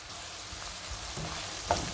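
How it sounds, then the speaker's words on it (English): Onions frying in a pan for paneer makhani, a continuous sizzling hiss with a couple of soft stirring scrapes and a brief sharper clink near the end, heard close and alone. "Give a nice stir to my onion"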